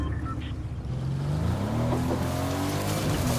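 A vehicle driving in Fortnite, its engine droning steadily and rising in pitch as it accelerates, close and continuous with no talking.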